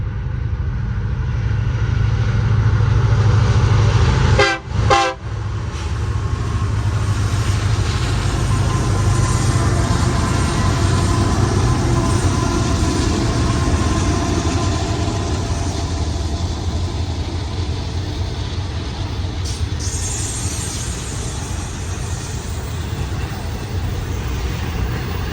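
A Union Pacific manifest freight train at Silverwood: a loud, steady rolling roar that holds for the whole stretch, broken only by a brief dip near the start.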